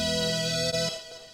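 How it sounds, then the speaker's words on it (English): A soft synth tone holds a steady, sustained chord with a rich stack of harmonics, fairly quiet, then drops away and fades out after under a second, alone with no voice. "there's a lot of synths, a lot of like soft synths like these"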